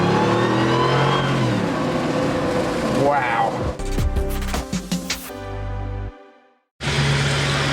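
A Dodge Hellcat 707 engine in a Jeep at a 4x4 shop gives a few short, sharp revs and then one longer rising rev before it drops away. People talk and react over the revs.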